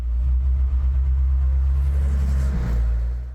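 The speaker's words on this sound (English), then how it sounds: "Oh, what a truck. This is where they transport tanks." A large truck rolls past near a Donetsk front line on a damaged road, a heavy, steady low engine rumble that stays loud throughout, with no talk.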